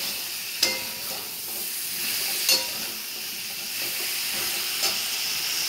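Ridge gourd and pointed gourd sautéing in a pan give off a steady soft sizzle and hiss, with a few brief clicks of stirring scattered over the continuous frying noise.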